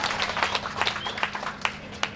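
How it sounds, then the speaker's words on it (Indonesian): An audience at a company launch ceremony applauds, a busy spread of hand claps with several louder close claps punctuating it, over a low steady hum. "Tepuk tangan dulu"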